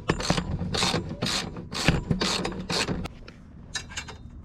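A ratchet wrench tightens bolts while a harness bar is installed in an Acura TL, producing loud, rhythmic bursts of close clicking strokes that fade to lighter clicks near the end.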